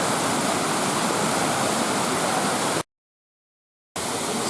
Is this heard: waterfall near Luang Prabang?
yes